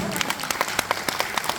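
Brief, irregular clapping from a church congregation during a sermon, sharp separate claps rising over a speaking voice that continues throughout.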